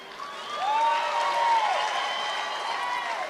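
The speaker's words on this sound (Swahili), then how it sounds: "Makofi kwa Olekina," A crowd at a Meru gathering applauds Senator Olekina with steady, moderately loud clapping, while a tonal whistle or feedback sweep sounds over it.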